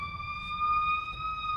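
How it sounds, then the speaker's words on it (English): An ambulance siren on the street holds a steady high wail as the vehicle drives past, heard through a room over a low rumble of traffic. "Okay, the ambulance just drove by the ambulance."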